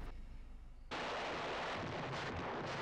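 Battlefield explosions and artillery fire from the 1957 war film Paths of Glory: a quiet opening, then a sudden loud broadband blast at about one second that rolls into a sustained, dense roar of bombardment to the end.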